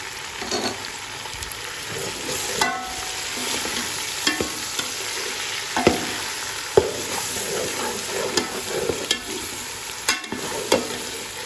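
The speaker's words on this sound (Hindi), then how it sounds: "ये अदरक लहसुन जो अच्छी तरह से भून चुका है।" Chicken fries with ginger garlic paste in a pan, sizzling steadily while a spoon scrapes and stirs with irregular clinks and knocks close by.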